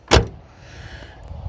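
A K car door shuts once with a single solid, close thud, followed by a quiet settling tail with no rattle.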